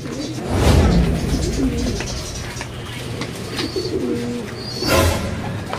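Racing pigeons cooing at a loft after a fun race, close and loud, with soft repeated throaty coos rising and falling over a busy background of wing rustle and other birds.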